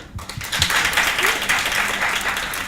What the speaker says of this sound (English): please give her another round of big applause